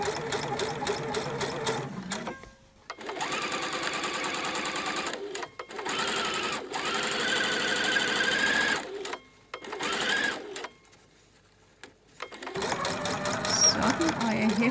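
Sewing machine stitching along the edge of a ribbon on a reusable gift bag, close rapid whirring runs broken by short pauses and a longer stop near the end.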